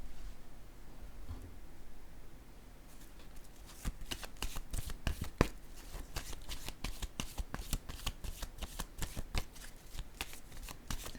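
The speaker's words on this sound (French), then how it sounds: "Je vais piger une carte ici." Tarot cards are shuffled by hand in a quiet room, a soft riffling hiss giving way to a run of crisp, rapid card flicks and snaps close up.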